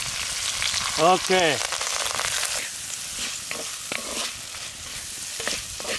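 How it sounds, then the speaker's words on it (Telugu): Finely chopped onions fry in oil in a pan while being stirred, a steady close sizzle with scraping strokes; a brief voice speaks over it early on. "ఉల్లిపాయలు బాగా వేగే వరకు ఈ విధంగా కలుపుకుందాం"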